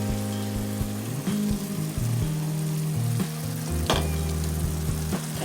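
Crushed tomatoes hit a hot pan for a meat sauce, giving a steady close sizzle and frying hiss with occasional stirring scrapes and a low hum underneath.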